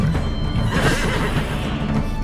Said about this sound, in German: Hier mein Pferd.